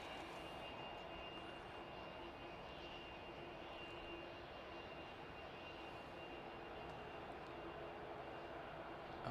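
An aircraft at Manchester Airport gives a steady, broad engine roar that holds evenly throughout, heard from some distance with no talking.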